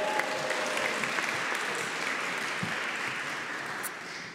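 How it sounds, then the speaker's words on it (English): An audience at a Christmas carol concert applauds and cheers, a steady wash of clapping at moderate volume that carries through and tapers slightly at the end. "So give yourselves a cheer for being back."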